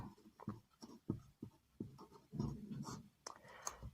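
Pen strokes scratching on paper while a Class 10 maths problem is worked out, quiet irregular bursts of writing with short pauses between strokes, close up and alone.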